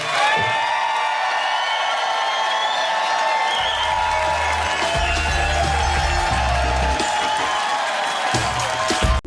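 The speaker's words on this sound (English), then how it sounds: "Give yourselves a round of applause." A comedy club audience applauds and cheers after a stand-up set, with dense sustained clapping, scattered whoops and crowd noise holding loud throughout, then breaking off sharply at the end.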